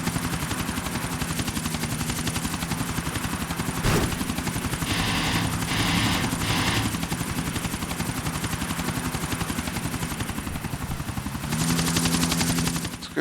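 A helicopter in Grand Theft Auto IV flies over the city with a loud, constant rotor chop and engine roar, and brief bursts of gunfire-like clatter come through the dense, continuous noise.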